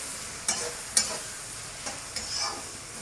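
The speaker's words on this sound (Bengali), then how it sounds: "এখন পেঁয়াজটাকে আমি ভালো করে ভেজে নেব।" Two whole onions frying in a pan for a Bengali mixed vegetable and prawn dish, a soft, quiet sizzle broken by a few sharp stirring scrapes.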